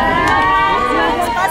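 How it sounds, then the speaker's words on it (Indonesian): Indonesian citizens greet the arriving President with applause and warm cheering, a dense, steady crowd roar of clapping and excited voices throughout, loud and close, with babble mixed in. "Momen ini langsung disambut tepuk tangan dan sorakan hangat dari WNI."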